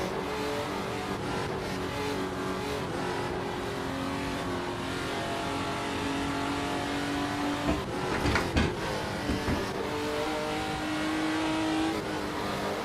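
A retro Nissan race car engine in Assetto Corsa revs hard and steadily toward 8,500 RPM, its loud sustained whine rising through the gears with brief throttle lifts and shifts near the end.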